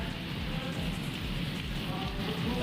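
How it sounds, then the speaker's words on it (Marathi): Unseasonal rain falls steadily on surfaces in a rural area, a soft continuous patter with a low rumble beneath, fairly faint and with no voices. "राज्यातल्या अनेक भागात अवकाळी पावसाची हजेरी"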